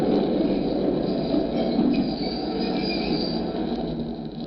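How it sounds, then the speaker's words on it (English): Train pulling into a station, a radio drama sound effect from a 1945 mystery broadcast: steady rumbling wheels with faint squealing, loud and continuous before easing slightly as it slows. "The last train was just pulling in."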